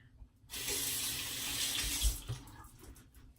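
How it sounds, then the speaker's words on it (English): Tap water gushes steadily from a faucet into a sink to wet a hairbrush, starting abruptly and running strongly for about two seconds before tapering off, close by and with no talking. "Now I'm gonna wet my brush."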